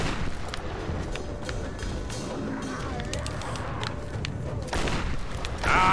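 Gunfire in Tomb Raider 2013 during a frantic firefight, a dense string of shots and impacts over a busy, steady wash of game noise with scattered louder cracks.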